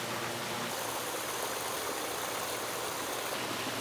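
Water pours steadily through a biological waterfall filter on a koi pond, a constant, broad splashing rush at close range with no talking.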